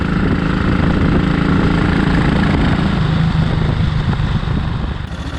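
A Matchless G3L WD single-cylinder motorcycle engine runs steadily at high revs, a loud continuous drone that holds throughout and eases slightly near the end, with no talking.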